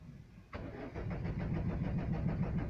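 A Peugeot Expert van's engine cranks without catching: a sudden onset of the starter, then a steady, pulsing churn that keeps going, close and moderately loud.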